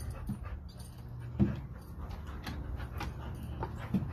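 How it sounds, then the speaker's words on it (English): A dog playing tetherball pants and whimpers close by, with a few soft thumps scattered through the steady breathing. "Dog tetherball."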